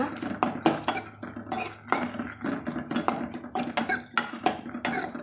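A utensil scrapes and clatters in a pan as brinjal is stirred and sautéed for a spicy mixed-vegetable chutney, giving repeated close metallic knocks in an uneven rhythm.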